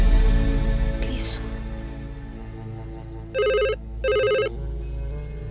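A telephone rings indoors in two bright, electronic bursts about half a second each, close and fairly loud over a low hum of background sound.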